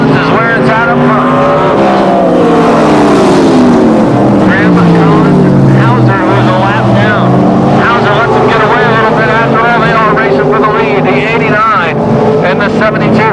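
Open-wheel modified race cars roar past in a loud, continuous engine drone with rising and falling pitch sweeps, while a race announcer talks over the field.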